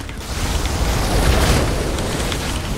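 Rumbling explosions in StarCraft II co-op rise into a dense, roaring blast that holds steady and loud for a few seconds, with no talk over it.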